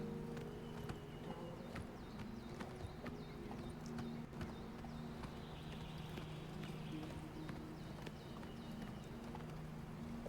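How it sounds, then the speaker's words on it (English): Horse hooves clip-clop steadily in the video game Oblivion, a rhythmic run of quiet, even footfalls over a faint background hum. "Get on the horse. A lizard riding a horse."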